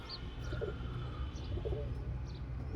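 A four-year-old pigeon, freshly moulted, gives soft low coos against a quiet indoor hum, with a few faint chirps from other birds scattered throughout.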